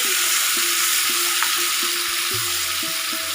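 Onion and garlic paste hitting hot oil with bay leaf, dried chilli, cinnamon, cardamom and cumin for a potato-cauliflower curry, giving a steady close sizzle with a few soft utensil clinks.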